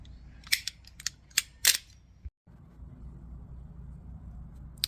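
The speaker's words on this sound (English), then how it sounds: "The little PVC cutter." A small handheld PVC pipe cutter works through PVC pipe, giving several sharp clicking snaps close up, followed by a brief gap and then quiet background noise.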